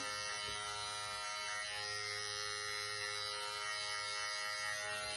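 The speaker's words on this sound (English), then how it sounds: "Trim those little hairs in there." An Andis electric trimmer buzzes steadily and close up while trimming ear hairs and earlobe fuzz, a constant high whine with no talking.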